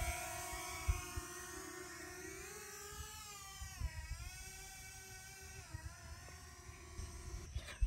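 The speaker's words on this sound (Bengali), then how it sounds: "এখন আমি এই যে ড্রোনটা পাঠিয়ে দিলাম" A drone sends out a thin, continuous buzzing whine as it is flown out over Gazipur Safari Park. The pitch bends and wavers as it moves away, staying faint and steady throughout with no talk.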